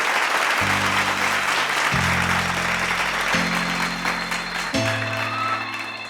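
Applause from an audience greeting finalists onstage at a televised singing competition finale, a steady wash of clapping lasting throughout, with a low sustained musical tone underneath.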